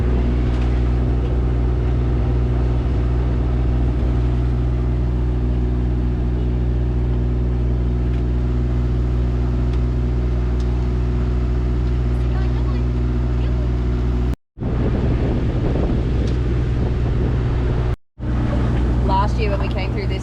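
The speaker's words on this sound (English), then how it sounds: "We've lost the wind, so now we are motoring" A sailboat motors under engine power after losing the wind, its inboard engine droning low and steady throughout, close and loud, with two brief dropouts near the end.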